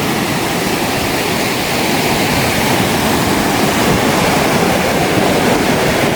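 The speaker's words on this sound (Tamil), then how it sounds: "இந்த தண்ணியுடைய வேகத்தை வந்து பாருங்க." Floodwater surges fast and loud after a cyclone in Mullaitivu that broke bridges and tore up culverts, a dense continuous roar close by with no talk.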